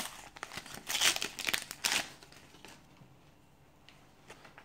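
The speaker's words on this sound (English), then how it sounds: "I'm going to open my last packet" A foil Panini sticker packet for the Disney Pixar Coco album is torn open and crinkled, giving sharp close crackling and ripping for about two seconds before dying down to a few soft rustles.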